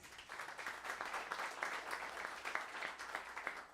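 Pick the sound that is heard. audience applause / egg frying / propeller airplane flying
audience applause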